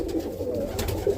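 Roller pigeons of South African, Irish, Harris and Mason lines cooing in a loft, soft low throaty coos close by against a faint rustling background, about a second long, with no talk.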